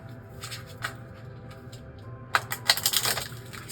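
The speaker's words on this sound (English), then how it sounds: "So I'm actually going to shuffle this deck once more and see what else we can learn here." A tarot card deck is shuffled close by, with soft scattered card flicks building into a quicker burst of riffling and tapping near the end.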